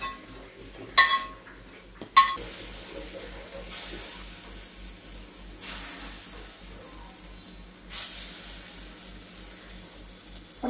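Lentil fritters of chana dal fry steadily in a pan with a soft, continuous sizzle, broken near the start by a couple of utensil clinks and scrapes, with swells of louder frying later on.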